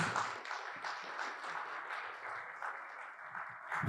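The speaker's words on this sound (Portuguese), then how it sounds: "para quem eu peço uma salva de palmas." Applause from the audience at a national congress in a hall: a faint, steady wash of many hands clapping from a distance throughout, with no speech over it.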